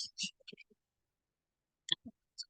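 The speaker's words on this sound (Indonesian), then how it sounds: "Kemudian kita klik OK." A few sharp computer mouse clicks sound while SPSS statistics software is operated, scattered among brief soft murmured fragments and long stretches of near silence.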